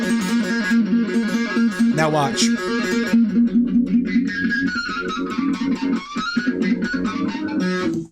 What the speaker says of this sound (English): very lightly start scraping this part of your hand along the strings, and that's how you get other types of harmonic sounds like this